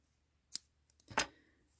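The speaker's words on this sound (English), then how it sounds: "I cut my working yarn" Scissors snip working yarn during a crochet project, two quiet, brief cuts close by in an otherwise silent room.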